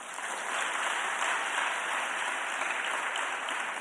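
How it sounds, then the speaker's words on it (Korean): A church congregation at a Wednesday evening service claps in steady, dense applause that fills the room evenly from start to finish, with no talking over it. "이렇게 박수를 쳐주시니까 용기가 생기네요."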